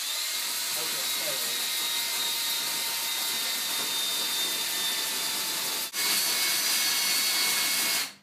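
A 50 grit Roloc disc grinds down a damaged plastic bumper with a loud, steady high-pitched whine and hiss, pauses for a moment, then resumes before stopping abruptly.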